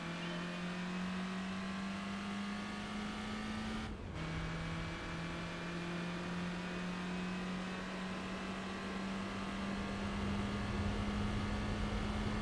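Racing car engines in Gran Turismo 4 Spec II, a small black Smart coupe running against mid-engine cars, drone steadily with a sustained tonal whine and slowly shifting pitch, unbroken throughout.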